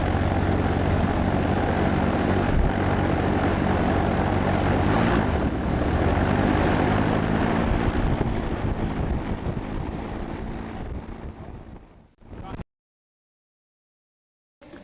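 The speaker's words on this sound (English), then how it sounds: "we were able to actually run the motor and demonstrate the starting procedures" Rotax 912S aircraft engine running steadily on a Zenith CH701 during ground run-up, a loud, continuous droning roar for about twelve seconds, then cutting off abruptly into silence.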